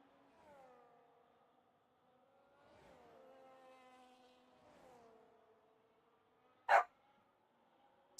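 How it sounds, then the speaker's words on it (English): A pet dog in the background lets out drawn-out whining, howl-like calls in a few separate bursts, fairly faint, with one sharp bark-like burst near the end. "Excuse the barking in the background"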